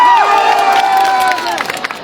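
A crowd at an AAP political rally in Hadad village, Botad, cheers and applauds for about two seconds. Loud, dense noise with shouts and whoops over it, thinning toward the end.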